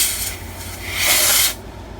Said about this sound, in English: if I get the freeze spray,